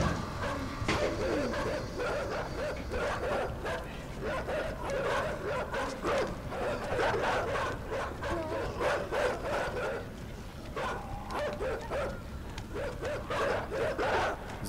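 Dogs barking repeatedly in the side-scrolling game Inside, a dense run of yips and barks throughout with scuffling game sounds, loud and close, no talk.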